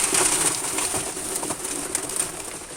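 Pigeons in a loft on a rainy day make soft cooing calls over a steady hiss of rain, close and continuous.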